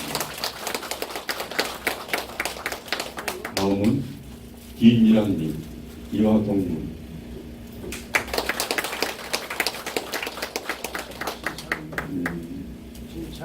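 Audience applause rings out at a certificate ceremony for a temple food course at Hwaeomsa Temple's museum school on Jirisan, sustained clapping that pauses while a voice reads out names, then swells again.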